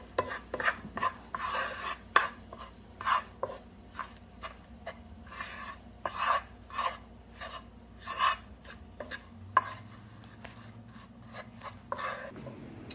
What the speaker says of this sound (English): Get it all blended in there